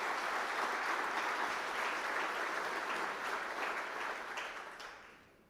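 Audience applause for the Rotary Club at a State of the Government event, a sustained roomful of clapping that holds steady and then tapers off near the end.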